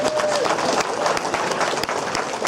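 Dense, steady applause from a crowd, loud and sustained throughout with no clear breaks.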